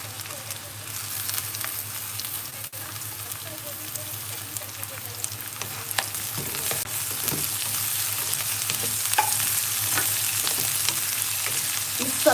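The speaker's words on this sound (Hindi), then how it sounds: "अब मैं यहाँ पत्ता गोभी जो है कटिंग करके जो मैं रखी थी इस तरह से वो डाल रही हूँ।" Chopped cabbage hitting a hot pan and frying, a steady loud sizzle that builds over time with occasional scrapes and clinks of a spoon stirring, no voices.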